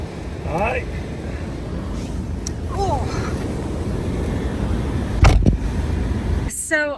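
Car heater blowers running at full speed to defrost the windows, a steady broad rushing roar filling the cabin throughout, with faint voices and a couple of brief knocks and clicks near the end.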